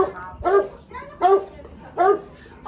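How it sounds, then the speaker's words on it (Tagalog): A large Saint Bernard dog gives three loud barks close by, spaced about a second apart, with whimpery tones between them. "Saint Bernard."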